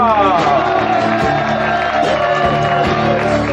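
A concert audience at a show cheers and whoops loudly, a dense close crowd roar with shouted voices throughout the short burst.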